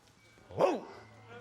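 A voice imitates a dog, giving a single short, rising-and-falling bark close to the microphone in a quiet room.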